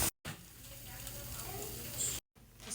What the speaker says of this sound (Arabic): طبعا البصل بدون اي دهون لحد ما يطلع السوائل اللي فيه